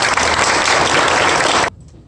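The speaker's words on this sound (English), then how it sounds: "please, round of applause." Applause at a Sons of the American Revolution dinner, a loud, dense burst of clapping from the seated audience that cuts off abruptly, leaving near silence.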